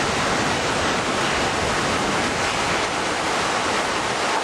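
The 2004 tsunami strikes an island resort in Thailand with a continuous, loud, dense rush of crashing water and surf, a thick roar that stays level from start to finish with no voices.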